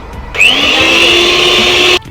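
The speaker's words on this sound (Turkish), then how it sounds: "ve yeniden mikserle qarışdırırıq" A steady electric mixer whirs loudly mixing cake batter with oil for a couple of seconds, with a faint scraping tone, then cuts off abruptly.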